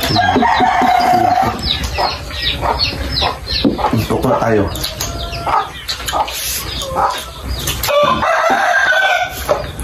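A rooster crows and native chickens cluck busily close by, while a person speaks briefly over the farmyard noise.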